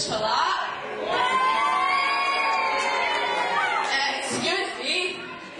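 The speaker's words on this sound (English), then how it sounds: "Pause for applause." At a W3L wrestling show before a full house, the crowd cheers and shouts loudly with high-pitched children's voices and whoops. The crowd noise stays steady and close throughout.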